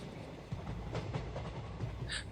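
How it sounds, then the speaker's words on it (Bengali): Far off, a train engine starts to move, a faint low rumble with soft rhythmic knocks gradually building, quiet and distant in the background. "দূর থেকে একটা অস্পষ্ট ইঞ্জিনের আওয়াজ শোনা যায় ট্রেনটা আবার চলতে শুরু করে"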